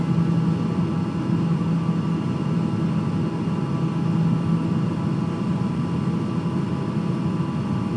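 An aircraft engine in a flight simulator drones steadily, a constant low hum with a broadband rushing layer that holds even and loud for the whole stretch, with no talk.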